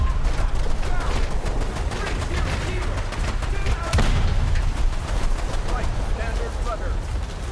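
Naval guns in a War Thunder sea battle fire steadily, loud close cannon blasts and rattling rapid fire overlapping throughout, with one heavier boom near the middle and speech underneath.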